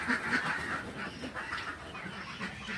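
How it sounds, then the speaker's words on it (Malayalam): Ducks let out of their coop call in a series of nasal quacks, several birds overlapping at moderate distance over a light outdoor background, no talking. "അപ്പോൾ ഗായ്സ്, നമ്മുടെ താറാവുകൾ ഇറങ്ങിയിരിക്കുന്നു"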